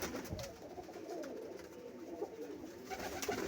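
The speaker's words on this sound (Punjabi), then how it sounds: "ਛੱਡਣ ਵਾਲੀਆਂ ਕਬੂਤਰੀਆਂ ਨੇ ਬਾਈ" Pigeons kept for release flights coo together in a loft at close range, a steady, continuous murmur of overlapping calls with no pauses and no talking.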